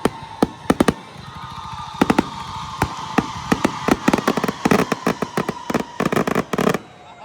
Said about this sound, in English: is not the parade, but the fireworks show right out here